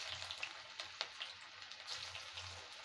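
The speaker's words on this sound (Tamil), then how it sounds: "இப்போ எல்லாத்தையும் நம்ம எண்ணெயில் போட்டு பொரித்து எடுத்துடலாங்க" Cabbage Manchurian balls frying in shallow oil, giving a steady close crackling sizzle with scattered sharp pops, no voices.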